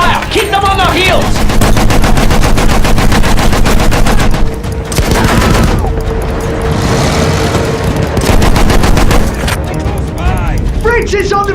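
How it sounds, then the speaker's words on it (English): Machine gun suppressing fire in the Battlefield 1 video game: loud, relentless rapid bursts fill the scene, joined by other gunfire, booms and shouted battle voices. "Continue suppressing fire! Keep them on their heels!"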